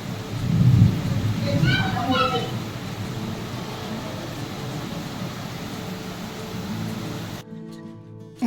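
Heavy rain pours steadily during a storm, with a deep thunder rumble near the start and a constant hiss throughout. Faint voices are briefly heard in the background.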